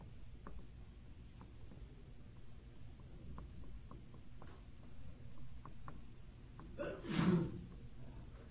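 One sharp sneeze breaks out near the end in a quiet lecture hall during a math lecture on polytopes, over faint room noise and small scratching sounds.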